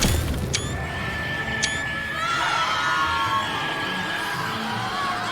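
Mandrakes scream in Hogwarts Legacy, high shrill wailing cries that rise and sweep over a busy background of crowd-like noise, sustained and fairly prominent throughout.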